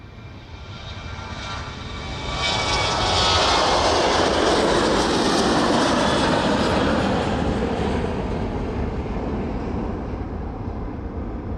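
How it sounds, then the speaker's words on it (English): Jet aircraft engines at East Midlands Airport build from a distant roar into a loud, broad rush as the plane approaches and powers past, holding steady and near for several seconds. "There it goes, those engines making their way towards us then."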